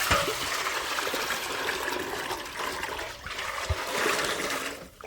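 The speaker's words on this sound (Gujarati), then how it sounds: "આને જો પેલા પાણી નાખશું" Water poured out for a large buffalo to drink, a steady broadband gush and trickle running nearly the whole time with brief splashy bursts, fairly close and with no talk.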